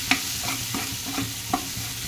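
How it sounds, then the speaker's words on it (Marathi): Tomato masala with turmeric, red chilli and homemade spice mix roasting in a pan for a drumstick curry, a spoon scraping and stirring in a few distinct strokes over a steady low sizzle, close and alone. "मस्त भाजून घेऊया"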